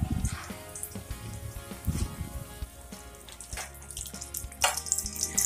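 Keema rolls frying in hot oil, a steady close crackling sizzle with bubbling pops and scattered spatters throughout.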